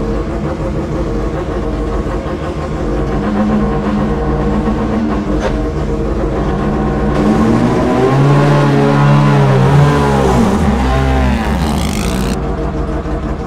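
A Mazda prototype race car with a rotary engine runs steadily and loud throughout, its note rising and sweeping in pitch toward the end as it revs, with no talk over it.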